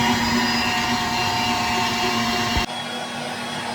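An electric meat grinder whirs steadily as it minces meat and onion, a loud continuous motor drone with a high tonal whine that drops suddenly near the end.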